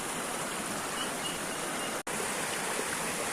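Rainwater rushing steadily in a constant broadband wash, like runoff flowing nearby, with a very brief dropout midway.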